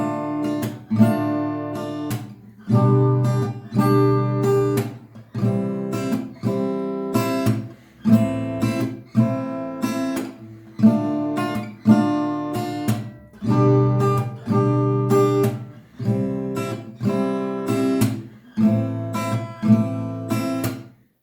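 Acoustic guitar strummed in a steady repeating rhythm, chords ringing in short bursts with brief gaps between groups, close and fairly loud with no voices.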